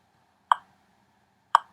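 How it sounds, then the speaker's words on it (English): A metronome gives two sharp, evenly spaced clicks about a second apart, close and clear against near silence, with no audible guitar. "let me turn the metronome on"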